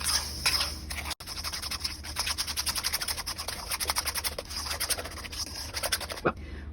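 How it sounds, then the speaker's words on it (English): Rapid, close scraping of a spoon against a bowl while coleslaw dressing is mixed, a busy rhythmic rasp that continues throughout with one brief pause. "I'm going to try just mixing it up with this spoon"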